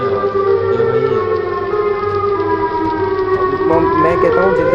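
A loud, wavering siren wail from the Siren Head monster in Minecraft drones on continuously, rising in pitch toward the end, eerie and close.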